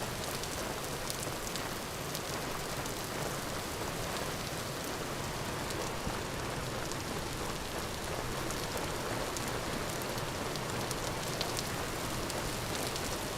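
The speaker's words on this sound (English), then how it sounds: "All right, a little bit of rain." Light rain falls steadily for the whole stretch, a soft continuous patter of drops on a surface at an outdoor construction site, with no voices and no clear thunder.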